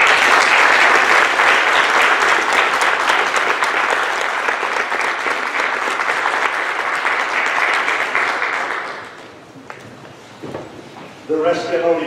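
Loud, sustained applause from a keynote audience in a recital hall at a PBL conference, welcoming a professor; it runs for about nine seconds, then fades to a quiet room before a voice begins speaking.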